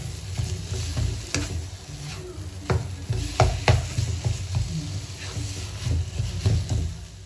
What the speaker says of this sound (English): mix all of this together and keep cooking it until the coconut gets a little dry